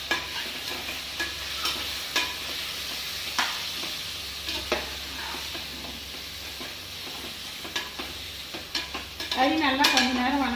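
Mutton pieces fry and sizzle in a pan while being stirred, giving steady frying hiss with repeated scraping strokes that grow louder near the end, heard without talk.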